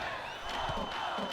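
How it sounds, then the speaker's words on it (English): A virtual arena crowd in NBA 2K16 cheers and roars in a steady, dense wash of voices that swells slightly without any clear break. "Dude, they brought the whole cheering squad."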